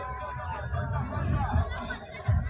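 Crowd chatter at a sports ground, a steady murmur of many voices with occasional louder bursts, heard from within the gathering.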